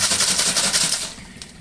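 A jar of pasta sauce, misted with a little water, is shaken by hand in a home kitchen while making Italian sausage spinach lasagna. It gives a rapid, rhythmic rattling slosh, close and steady, then eases off.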